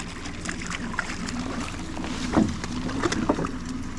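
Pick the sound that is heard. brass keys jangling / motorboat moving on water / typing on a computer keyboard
motorboat moving on water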